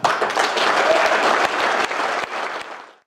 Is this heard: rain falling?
no